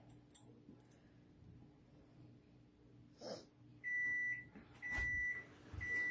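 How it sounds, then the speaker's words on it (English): A kitchen oven timer signals that cookies are done, giving three sharp electronic beep bursts in a row, each about half a second long, over a quiet room tone with faint background clatter. "There's our timer that says the cookies are done for the 4th time."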